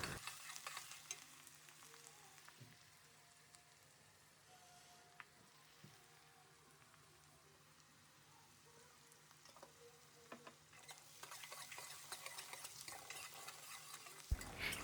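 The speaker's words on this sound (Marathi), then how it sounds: "कढीपत्ता झाल्यानंतर मग कांदा टाकायचा आणि छान सोनेरी रंग येईपर्यंत परतायचा" Onion frying in a pan after curry leaves go in, with soft sizzling and occasional scrapes of stirring, faint and close, no voices.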